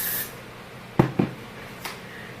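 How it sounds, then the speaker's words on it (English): Hair spray is sprayed onto hair while styling a bubble ponytail, with two short close hissing bursts followed by a fainter third spritz, otherwise quiet. "So take a spray and just going to spray."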